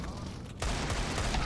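Rapid gunfire in a competitive shooter video game during an esports match, dense bursts of shots that jump louder partway through, with a commentator speaking over the top.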